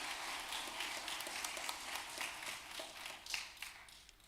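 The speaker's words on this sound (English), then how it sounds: "Let us give them a round of applause." Applause at an evening church school gathering honouring the founders of the Caring and Sharing Learning School, a steady wash of many hands clapping from a seated audience in a hall, fairly distant and even.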